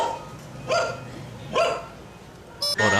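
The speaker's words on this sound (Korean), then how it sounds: "뚱이가 짖는 게 아니었네요." Several dogs bark outside an office building, a few sharp barks spaced over a few seconds, then a quick higher yip at the end. A brief voice speaks in between.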